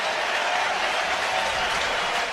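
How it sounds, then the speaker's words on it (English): Baseball crowd at Rogers Centre in Toronto during a Brewers versus Blue Jays game, a steady broad roar of cheering and applause sustained throughout, fairly distant and even, with no talk over it. "Crowd making some noise here."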